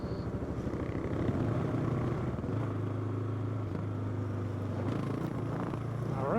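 Kawasaki KLX dual-sport motorcycle engine fitted with an FMF exhaust pipe, a steady close-up drone with a low rumbling pulse that holds constant throughout, with no talking.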